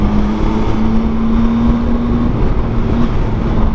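A 2023 Yamaha XSR900 motorcycle fitted with an Akrapovic exhaust rides along, its loud, steady engine drone holding a low note, with heavy wind rush over the microphone throughout.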